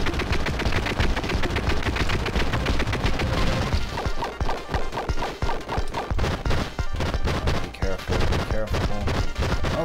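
Rapid, dense enemy gunfire from Contra Hard Corps rattles in fast repeated bursts, loud and continuous, mixed with crashing impacts and busy game sound throughout.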